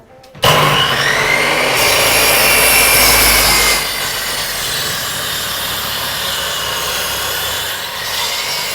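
Wood being cut in a woodworking workshop, a loud continuous power-saw whine that starts abruptly, holds strong for a few seconds, then drops to a lower, steady running hum, close up with no talking.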